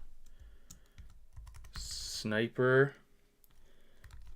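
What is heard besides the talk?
typing on a computer keyboard into a chat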